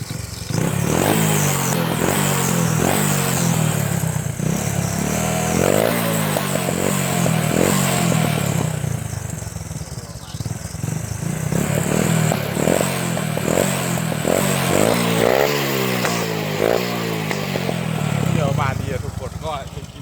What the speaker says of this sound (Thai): ก็มาฟังเสียงท่อเลยครับ